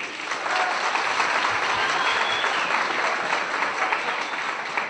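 A large audience breaks into loud, sustained applause at a Turkish public event on barrier-free living, the dense clapping holding steady throughout.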